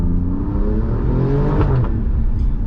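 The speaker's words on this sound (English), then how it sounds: "As we asbo through this little town, the echo of that exhaust sounds brilliant." A 2020 Alfa Romeo Giulia Quadrifoglio drives through a small town, its loud exhaust droning and rising in pitch as it echoes off nearby buildings, close and continuous.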